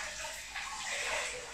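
Water splashes and trickles in a small bowl in an office, a soft close swishing with a brief stronger slosh midway.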